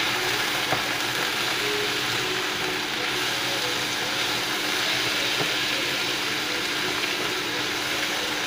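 Fajita ingredients sizzle steadily in a hot pan, a continuous close frying crackle with faint scraping and clinks, no talking.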